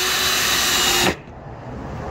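Power drill driving a very small self-tapping screw into a wooden board, a loud steady whir for about a second that cuts off abruptly, leaving quiet room noise.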